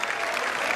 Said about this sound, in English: This the applause as he walks off the ground